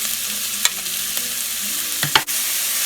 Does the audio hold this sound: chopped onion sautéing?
yes